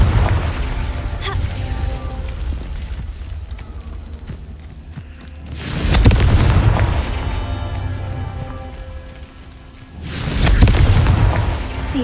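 Two heavy booming blasts from the Confringo fire spell in Hogwarts Legacy, each a loud burst with a rumbling tail, separated by a few seconds, under a bed of game music.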